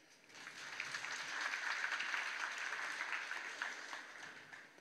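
Sustained audience applause with many hands clapping, swelling to a steady peak and then thinning slightly toward the end, alone without speech.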